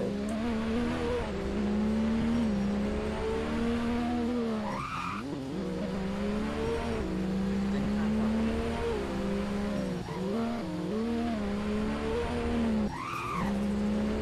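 A race car in the video game Driving Empire holds a loud, steady engine whine that dips and swoops with gear changes and brief tire skids across the run.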